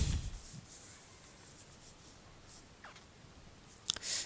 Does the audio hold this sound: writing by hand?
yes